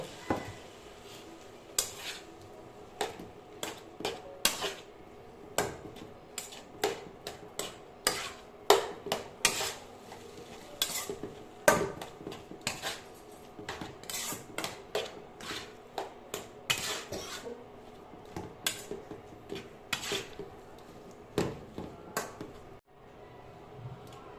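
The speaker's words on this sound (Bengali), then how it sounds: "এবার কাঁটা বেছে রাখা সেদ্ধ মাছটা এর মধ্যে দিয়ে নেড়ে চেড়ে নেব।" A spoon stirs boiled, deboned fish into spice masala in a pan for fish fingers, giving repeated close scraping and clinking knocks against the metal at an uneven rhythm.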